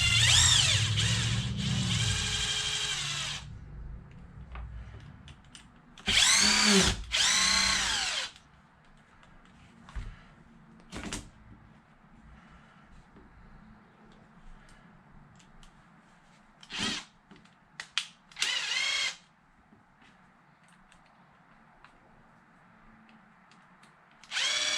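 Cordless power drill spinning out bolts on an Arrma Kraton RC car, several short loud whirring bursts separated by quiet pauses and small handling clicks, close by with no talk.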